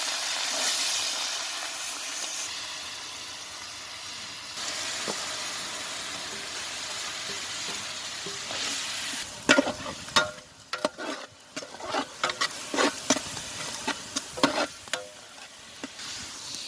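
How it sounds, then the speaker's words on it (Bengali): Onion, ginger, garlic and chili tossed into hot oil for a village-style chicken fry, a soft hiss turning into loud crackling and popping sizzle with irregular bursts, close by. "সাজানো আছে পেঁয়াজ, আদা, রসুন, মরিচ, এগুলো আমরা তেলের মাঝে দিয়ে দেবো।"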